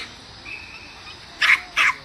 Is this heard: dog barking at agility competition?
yes